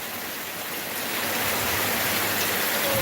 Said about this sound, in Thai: ฝนตกหนักมากฮะตกหนักหนักมากนะครับ